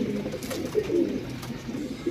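Rampuri pigeons coo close by, several soft, low throaty calls repeating over a few seconds with no voices.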